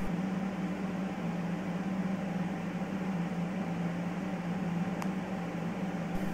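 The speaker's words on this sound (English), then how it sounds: "As you can see, it is pretty loud with the duct fans turned on." A home server rack holding six servers, with two 6-inch duct fans running, gives off a loud, steady, unbroken roar of fan noise and airflow with a constant low hum.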